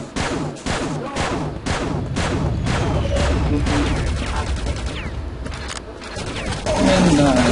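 Rapid chain gun bursts from Sergeant enemies in the Quake 2 video game rattle close and loud, steady repeated shots with booming impacts, while someone talks over them.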